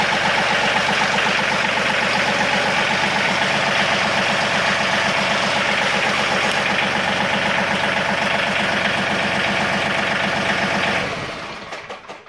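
A 2017 John Deere 2032R compact tractor engine runs with the PTO engaged, a loud steady rumbling drone with a rapid pulsing beat that holds for about eleven seconds, then fades off at the end.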